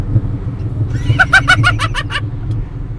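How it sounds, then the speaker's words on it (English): A car's speed warning chime sounds as a quick series of about seven bright, evenly spaced electronic beeps over the low rumble of the engine. "Is that a chime? Is that a speed chime?"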